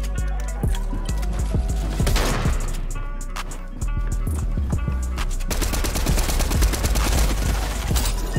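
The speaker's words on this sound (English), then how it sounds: "No problem for the Striker SMG." Striker SMG firing in Fortnite Chapter 3 gameplay: loud, rapid bursts of automatic gunfire crackling continuously across the whole stretch, with dense overlapping shots and no pauses.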